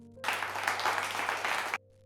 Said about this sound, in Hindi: गांव वाले फिर खुश हो जाते हैं और ताली बजाने लगते हैं